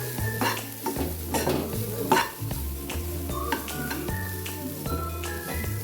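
Coriander and cumin frying in hot oil while making Karnataka-style pathrode, with a steady close sizzle broken by repeated scrapes and clinks of a spoon stirring in the pan, and no voices.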